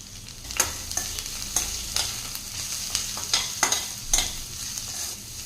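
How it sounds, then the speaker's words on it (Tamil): Small coconut pieces and onions saute in oil, giving a soft continuous sizzle punctuated by regular scraping stir strokes in the pan. "இந்த எண்ணெயில் வந்து நல்லா வதங்கிக்கும்."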